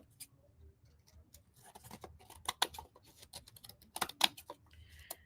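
Scissors snip through a paper craft piece in a run of small, crisp cuts, irregular and close but faint, growing busier toward the end with no voices.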